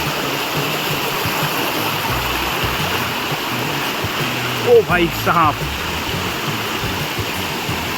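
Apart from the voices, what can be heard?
waterfall near Savarli village, Badlapur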